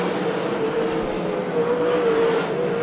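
Race cars at a KWS-NARC event at Hanford roar down into turns one and two, a continuous engine whine rising and falling in pitch, fairly loud and distant-sounding.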